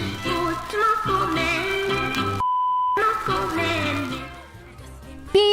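A pure steady censoring beep lasting about half a second cuts in over a sung word in a Korean song. The music stops around it and then resumes.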